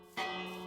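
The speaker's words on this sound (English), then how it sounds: "Why is it dinging still? Oh, is the bell ringing?" A single struck bell tone in a Minecraft Vault Hunters world sounds abruptly and rings on with a sustained, slowly fading resonance, faint and alone.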